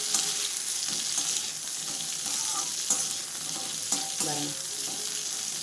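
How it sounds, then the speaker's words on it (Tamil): Chopped onions sautéing in sesame oil in a pan, giving a steady, close, bright sizzle with occasional stirring scrapes breaking through at intervals. "வெங்காயம் நல்லா வதங்கட்டும்."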